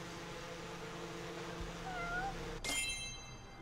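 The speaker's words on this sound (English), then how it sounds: "it sound like a cat" A single faint cat meow with a rising-falling pitch in the video game Judgement, heard softly over a steady game ambience hum, followed by a sharper electronic tone.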